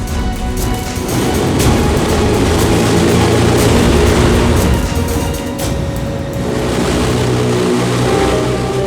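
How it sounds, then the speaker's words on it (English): The Hindenburg airship's four 1100-horsepower diesel propeller engines starting up, a loud sustained droning roar with a steady propeller hum that swells, dips briefly and then returns, with no voices. "the crew starts up the four 1100 horsepower diesel-fueled propeller engines"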